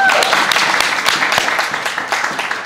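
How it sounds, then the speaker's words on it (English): A church congregation claps together in a short burst of applause, fairly loud and close, the individual claps slightly uneven and tapering a little toward the end. "They deserve another round of applause."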